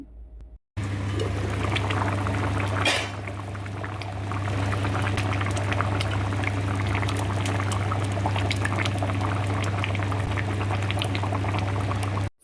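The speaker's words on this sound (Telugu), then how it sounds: "చింతపండు పులుసు వేసుకున్న తర్వాత కాసేపు అయితే ఉడికించుకోవాలి" Tamarind stew with eggs and taro simmering in a pot, a steady bubbling boil with a low continuous hum, close and even throughout, no talking.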